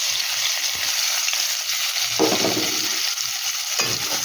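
Onion frying in hot oil with black cumin seed in a wok, a continuous sizzle close by, with a few louder bursts of stirring and scraping.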